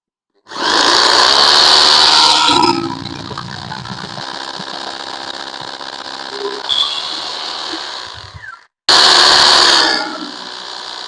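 A power drill whines loudly in a long burst, drops to a lower steady grinding for several seconds, then cuts out and starts again at full speed.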